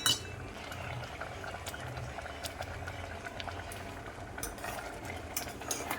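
Cracked wheat simmers in boiling jaggery water in a pot, a constant bubbling and popping texture that holds steady throughout at low, close volume.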